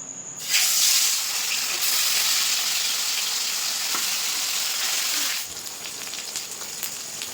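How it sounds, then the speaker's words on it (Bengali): Turmeric- and salt-rubbed silver carp pieces fry in hot mustard oil in a pan, a loud steady sizzle that bursts in at once and later eases slightly, close and continuous. "মাছগুলো উল্টে পাল্টে লাল করে ভেজে নিচ্ছি"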